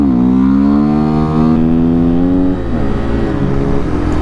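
A Yamaha WR250R dual-sport motorcycle revs hard during a wheelie, a loud, close engine drone that holds high, then drops off as the throttle eases.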